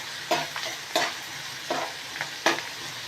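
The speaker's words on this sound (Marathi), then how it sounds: "आता हा कांदा आपल्याला दोन तीन मिनटं परतून घेते कांदा चांगला परतून घ्यायचा" Onion and chili frying in hot oil, stirred in a pan for a dry cauliflower dish: steady sizzling with four distinct scraping stirs spaced evenly, close and clear, with no talking.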